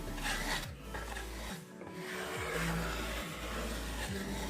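Hand plane taking very thin shavings off a wooden guitar body, repeated rasping strokes close up, each a few seconds long with brief pauses between, no talk.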